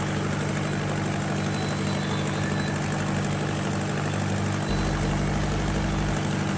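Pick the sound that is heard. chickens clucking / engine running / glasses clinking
engine running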